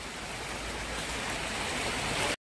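Heavy rain pours down over a flooded weekly grain market, a loud, dense, unbroken hiss of rainfall that holds steady before cutting off abruptly.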